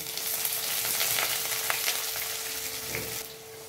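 Chopped onion fries with salt in oil tempered with whole garam masala, bay leaf, cumin and dried chilli, giving a continuous near crackling sizzle with occasional clicks of a stirring spoon and no talking.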